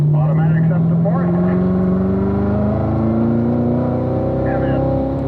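A car accelerating hard on a race track, its engine drone steadily rising in pitch as it climbs through the gears, loud and close from inside, with someone talking over it.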